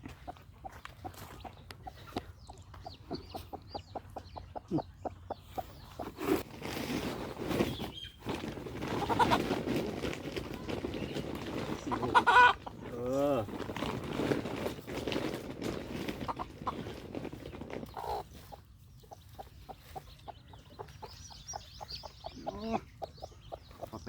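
A mother hen and chicks clucking and chattering on and off, some close, with occasional louder squawks and faint shuffling movement, no one talking.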